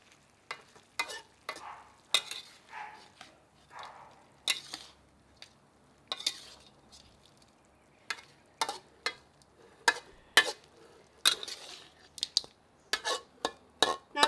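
A food mixture is stirred in a pan, with a spoon scraping against the metal in repeated, irregular strokes and clicks, close and fairly loud, and no talking.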